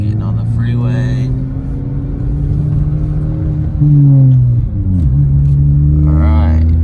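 A Ford Focus ST running an E30 tune is floored at full throttle on a freeway from 2,500 rpm, its engine droning loudly and steadily, with the pitch climbing and briefly surging near the end.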